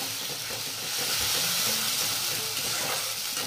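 Ground spice paste with cardamom and garam masala sizzling in hot oil as it is stirred in a pan, a steady dense hiss close and continuous, with occasional faint scraping.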